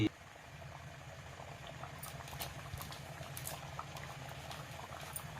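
Mutton gravy simmers at a steady, gentle boil in a pot, a soft continuous bubbling and popping heard up close and fairly quiet.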